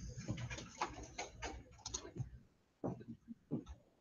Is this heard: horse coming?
no